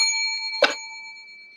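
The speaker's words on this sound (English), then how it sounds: "Bing that bell." A bell is struck once over a lingering ringing tone, a single bright clang that sustains and slowly fades away.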